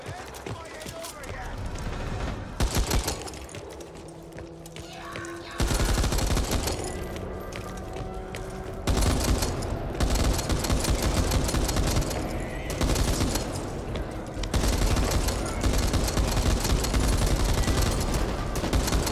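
Gunfire in the video game Back 4 Blood, sustained rapid automatic bursts with brief breaks, loud and dense, mixed with game noise and a voice talking over it.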